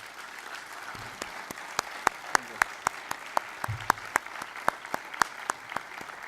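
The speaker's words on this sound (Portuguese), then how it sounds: "Uma salva de palmas." Audience applause after a lecture on the Fatima message: sparse, distinct individual claps at an irregular, unhurried pace, moderately faint against a quiet room.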